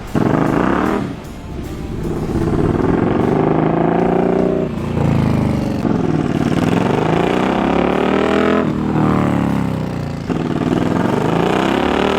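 A car pulls hard through first gear on a new engine tune, its loud, close engine note rising and sweeping upward in pitch through the RPM range with brief dips between pulls, no voices.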